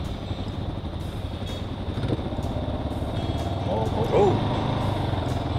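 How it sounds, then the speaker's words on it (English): A Kawasaki KLR motorcycle ploughs through a slippery water crossing on a trail, its engine droning steadily and close, with a brief exclamation from the rider. "Plowing through on the KLR today."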